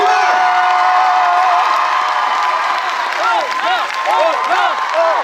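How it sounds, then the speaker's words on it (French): A crowd at a French film premiere applauds and cheers for the actor, with loud, continuous clapping, shouts and rising whoops throughout. "applaudissez très très fort un grand acteur français"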